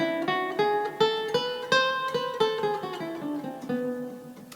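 Guitar plays a melodic minor scale, with single plucked notes in an even stepwise run that ring out briefly, close and moderately loud, with no talking.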